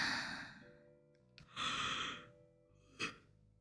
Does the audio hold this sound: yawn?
yes